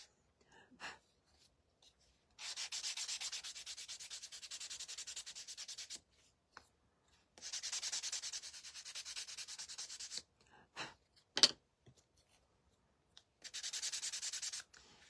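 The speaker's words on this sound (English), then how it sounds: "be careful when you're sanding these or doing things with that" Sandpaper works a small bird figure from a craft kit in three quiet, steady rubbing strokes, with faint taps and handling noises in the gaps between them.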